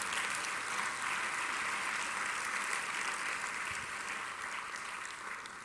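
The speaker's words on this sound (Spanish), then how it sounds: "Denle una ofrenda de palmas al Señor" A church congregation claps together as an offering of praise to the Lord, a continuous, even wash of hands heard from a distance at a low level, with no talk over it.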